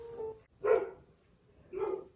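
A dog barks three separate times, close and fairly loud, with short quiet gaps between the barks and no talking.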